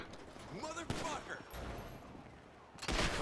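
Rapid gunfire rattles in GTA V with a zombie mod, loud bursts of shots close up, with heavier blasts near the start and end, while someone talks over the action.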